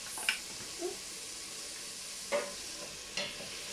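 Fried rice stirred with pepper and salt in a hot pan, a steady soft sizzle with a few scraping stir strokes of a utensil, close and moderately quiet.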